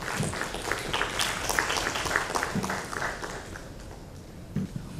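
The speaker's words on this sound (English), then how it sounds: "Please give a big round of applause to all the panelists and Michael." An audience at a marketing panel applauds the panelists, a steady wash of moderately loud clapping that tapers off toward the end of the five seconds.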